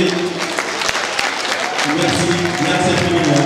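An audience applauds in a hall, steady clapping from many hands at moderate level, with voices speaking over it in the latter half.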